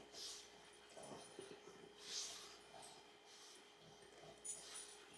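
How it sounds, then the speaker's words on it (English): A dog shakes its head and scratches at its itchy ears indoors, giving faint flapping, snorting and scuffling sounds in short bursts at a low level, with no talk. "I have a dog down here that is just driving me crazy"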